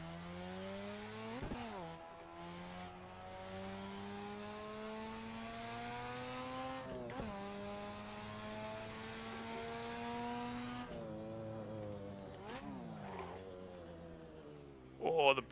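A 1980s Group C touring car in the Assetto Corsa racing game drones steadily, its engine pitch rising through the gears with several sharp drops at gear changes and a brief burst at the end.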